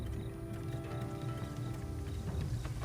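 Horse hooves clip-clop steadily in the samurai video game Trek to Yomi, a dense rhythmic patter of footfalls over low game ambience, heard throughout with no talking.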